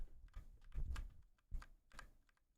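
Keys on a mechanical keyboard with new switches clack in a few quiet, uneven bursts of taps, close to the microphone, with short pauses between them.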